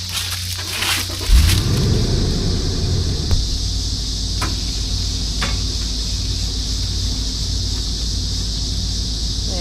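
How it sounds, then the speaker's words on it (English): A Lexus 570 SUV engine at a campsite, heard as a low continuous rumble, with a heavier surge near the start and a few sharp clicks and knocks over the steady hum. "That's a Lexus 570, and we love it for pulling our Casita."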